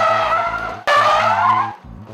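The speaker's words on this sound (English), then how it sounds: "You make the back tires lose grip by pulling the handbrake." Car tyres screech in a loud handbrake slide, one long squeal cut briefly near the middle and then resuming before fading, with engine drone underneath and no talking.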